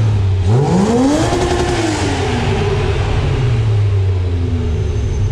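A close, loud Ferrari engine revs hard, its pitch sweeping upward to the rev limiter, then falls back and settles into a rumbling idle.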